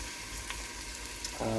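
Onions frying in oil in a pan for a Sri Lankan potato curry, a soft steady sizzle with faint stirring clicks, briefly rising at the end.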